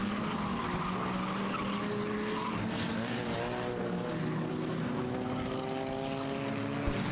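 Six-cylinder Enduro race cars lapping Star Speedway, their engines droning and rising and falling in pitch as they pass, a loud, continuous roar with no talk.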